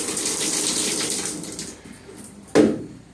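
Tap water runs steadily into a tub while a pug is bathed, a broad continuous rush that tapers off, followed by a brief louder splash or thump near the end.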